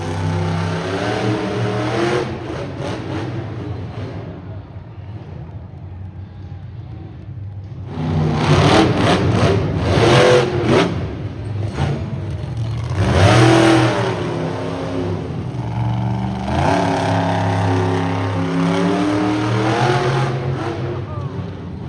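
A monster truck engine roars and revs on an arena track at a Ram Motorsports Spectacular show in Saskatoon. Loud surges rise and fall over the whole stretch, and an announcer speaks over the engine at times.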